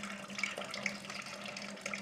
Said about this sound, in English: clear water that will rinse any remaining sugars off. And then it'll slowly drain out into the pot.